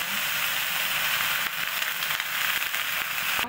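Onions sauté in a pan for beef papaitan, a Filipino bitter beef soup, making a continuous hissing sizzle with scattered small crackles, close and fairly loud, with no speech.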